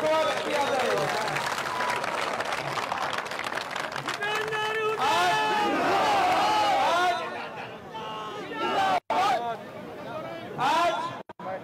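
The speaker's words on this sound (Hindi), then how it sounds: "जोरदार तालियों से स्वागत किया जाएगा" Outdoor political rally crowd in Haryana welcoming Deepender Singh Hooda with loud clapping mixed with cheering and chatter, voices calling over the applause before it thins out with a few dropouts toward the end.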